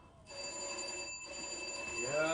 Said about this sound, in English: The persistent ringing of the doorbell yanks me out of bed.